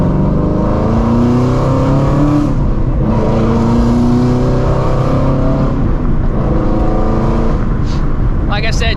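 A Shelby GT350 running catless long-tube headers roars loudly from inside the cabin as it accelerates through the gears, a deep, raspy, continuous engine drone with brief shifts and a driver's voice over it.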